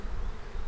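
A honey bee buzzes close by at a farm hive installation, a steady, continuous drone with no voices.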